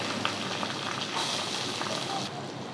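Garlic, fenugreek seeds and onions sizzle steadily in hot oil in a pan, a close, loud, continuous crackling hiss with no voices.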